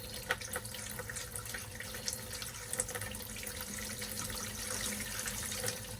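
Liquid pours and gurgles steadily into a camper travel trailer's sink drain while winterizing it with antifreeze, a continuous splashing wash with small irregular spikes and no talking.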